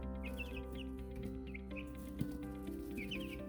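Four-week-old chicks in a brooder box give soft clucks and high cheeping peeps, close and fairly quiet over a steady background hum.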